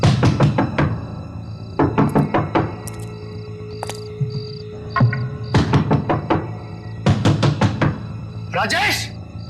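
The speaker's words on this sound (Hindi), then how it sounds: "तुम यहां खड़े रहकर लगातार दरवाजा नॉक करते रहो" Repeated knocking on a door comes in several rapid bursts of hard thuds with short gaps between them, close and loud in a tense horror scene.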